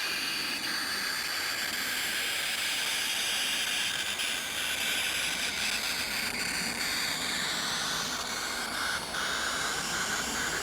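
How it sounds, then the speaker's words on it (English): A small ion engine runs with a steady, harsh hiss without a break, with faint crackles and pops scattered through it. "If we switch it on like this, you immediately hear it's starting to hiss and pop"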